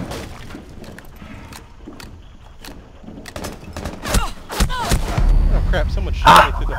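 Gunfire in Rainbow Six Siege on the Consulate map: sparse single shots early, then denser, louder cracks and bursts toward the end, mixed with a voice talking.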